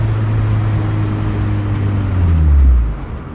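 A Citroën C2 VTS engine drones low and steady while driving, its pitch climbing and then sliding down as it revs, close and loud inside the car.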